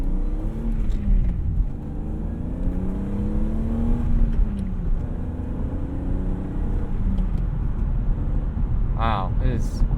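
A stock 1998 BMW E36 M3 in Dakar yellow, a four-door, pulls hard under acceleration while driving, its engine note rising and sweeping steadily over road and cabin noise as people talk inside.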